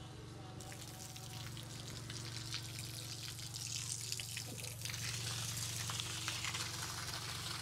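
Water from a pump gushes and splashes steadily over a low mechanical hum, growing slightly louder partway through, quiet overall.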